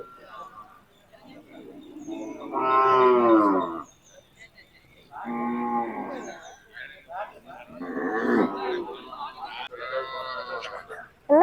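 Cattle at a traditional native-breed cattle market on the Bhogi festival day in Pazhaya Kottai, with several loud, drawn-out lowing calls spread across the clip, close by.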